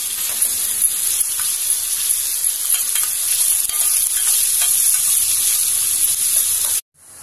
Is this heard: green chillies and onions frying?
yes